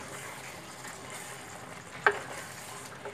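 Kadhai chicken with ghee and garam masala being stirred in a pan: a quiet, steady sizzle of frying with one sharp clink of a spoon against the pan partway through.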